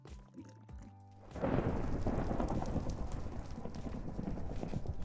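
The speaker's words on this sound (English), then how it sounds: "it really is thundering out there a lot" A thunderstorm in the Minecraft video game, with a deep rumble of thunder breaking in and then steady heavy rain that fills the rest of the clip with no talk.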